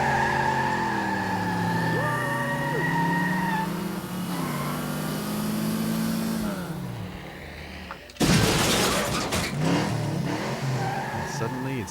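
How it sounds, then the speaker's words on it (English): Racing cars roar and whine past with engine pitch rising and falling, then a sharp burst of tire squeal and skidding up close. "I got some racing car sound effects and added them to it."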